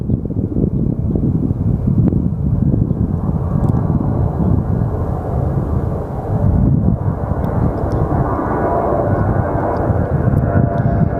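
A departing airliner bound for Las Vegas at Phoenix Sky Harbor Airport, a steady, loud broadband engine roar that holds for the whole stretch with a swell near the end, buffeted by wind noise on the microphone.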